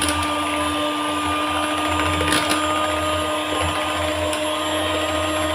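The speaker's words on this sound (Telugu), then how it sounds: "దీన్ని బాగా బీట్ చేస్తున్నాను. మొత్తం వైట్గా నురగ్గా వచ్చేదాకండి బీట్ చేయాలండి బాగా." Two eggs whipped hard for a fluffy omelette, beaten until white and frothy with an electric mixer, a steady loud whirring drone held without pause, with faint clicks here and there.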